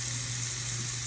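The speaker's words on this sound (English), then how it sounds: "it's important to wash hands." Running water from a kitchen tap pours steadily as hands are washed, a constant close hiss with a low hum beneath, no voices.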